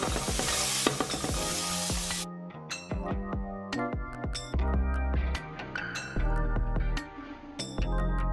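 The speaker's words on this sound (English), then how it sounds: "I'm gonna add my garlic, carrots, and then my onions." Garlic, carrots and onions frying in a pan, with a constant sizzle under repeated metallic clinks and taps of a utensil stirring against the pan, close and busy.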